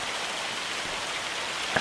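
Steady rain pours down in the Scottish Highlands of Farming Simulator 25, a dense, even hiss of drops on surfaces with a single brief knock near the end.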